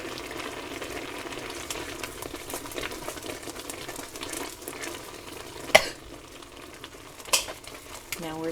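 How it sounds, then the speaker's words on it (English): Bubbling, sizzling rolling boil of pepper jelly mixture in a pot with occasional stirring scrapes and a couple of sharp clinks of a utensil against metal. "you want it to be a fast and furious boil that when you're stirring is still boiling"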